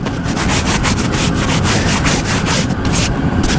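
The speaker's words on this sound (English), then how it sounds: "when you wax this, a lot of that wax will come loose, and I can even scrape some of it" Scraping of old wax from a wooden beehive frame damaged by wax moths, a steady close rasping rub that goes on throughout.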